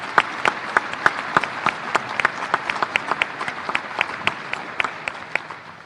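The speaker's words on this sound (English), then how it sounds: "Let's give them a round of applause, please." Applause for student athletes at a university conference announcement, many hands clapping in a dense, sustained wash with sharp individual claps standing out, steady throughout and tapering slightly at the end, no voices over it.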